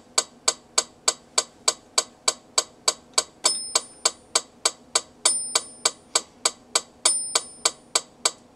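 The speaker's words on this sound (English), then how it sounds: "now I'm going to turn on our metronome and turn on the click" Steady, evenly spaced metronome clicks from a Roland Fantom-G tick along alone through odd time signatures, with a brighter accented click marking the start of some groups.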